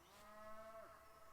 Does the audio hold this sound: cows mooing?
yes